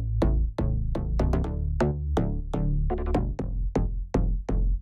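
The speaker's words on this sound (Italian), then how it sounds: "aggiungendo un effetto di Ableton, il corpus, che gli dà un po' un effetto tubo di plastica" A bass line processed with Ableton's Corpus resonator gives a hollow plastic-tube tone, plucky repeated notes in a bouncy rhythm, upfront and clean with no voices.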